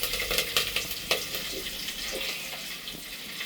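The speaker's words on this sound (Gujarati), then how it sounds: "તેલ લીમડો ને બધું સસડી ગયું છે" Hot oil crackling as curry leaves are tempered for Kathiyawadi dhokli, a close, dense sizzle with sharp pops early on that settles into a softer, steady hiss.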